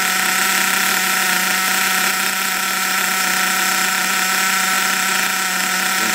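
A small nitro engine on an RC Trophy Truggy runs steadily through break-in, a continuous high-pitched buzzing drone at an even level with a faint rattly mechanical texture.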